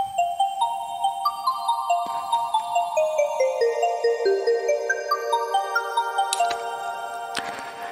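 A marimba preset with OTT compression, rapid, bright notes cascading in a descending pattern, dense and compressed with ringing overtones, steady pulse throughout.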